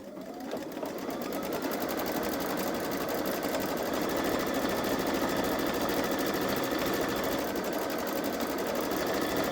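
A Babylock Solaris 3 embroidery machine stitches a design in a steady, loud, fast mechanical whir that runs unbroken throughout.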